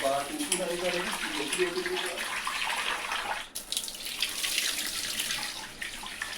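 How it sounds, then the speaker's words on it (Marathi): Water runs steadily from a tap and splashes into a container of rice and lentils being washed, with a brief pause midway, while someone talks softly over the flow. "तांदूळ डाळ नळाच्या पाण्यानं धुते"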